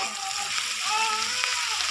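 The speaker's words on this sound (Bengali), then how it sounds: "আমি আবার পেঁয়াজ দিয়ে দিচ্ছি, তেলটা একটু বেশি গরম হয়ে গেছে" Onions frying in overheated oil in a pan for a thin chicken curry: a steady, close, bright sizzle and crackle that holds evenly throughout with faint stirring and no talk.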